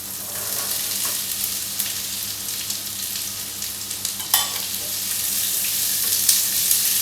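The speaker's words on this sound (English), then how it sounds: "While that is cooking, I'm going to add my peppers to this." Peppers tossed into frying onions in a pan for a Madras curry: a loud continuous sizzle with occasional stirring clicks and scrapes, no talking.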